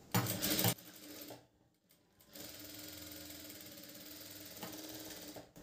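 A sewing machine stitches the front of a blouse in short bursts: a loud, rapid run at the start, a brief pause, then a quieter steady stretch of stitching close by.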